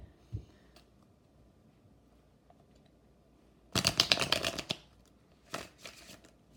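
A tarot card deck is shuffled in a quick riffling burst lasting about a second, then a couple of short softer rustles follow; close and fairly quiet, with no talking.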